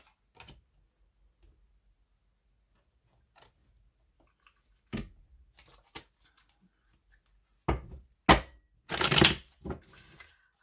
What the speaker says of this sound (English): the shuffle I just did before I said that was so ridiculously loud